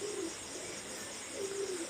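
Pakistani highflyer pigeons of an Oman bloodline give two soft, low coos close by, one at the start and one near the end, over a steady background hiss.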